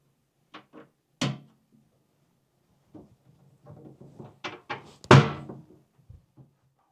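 Power tools snap into a three-layer wall-mounted organizer with a charging station, giving a few sharp, close plastic clicks and thunks, two of them louder, spaced apart by quiet pauses.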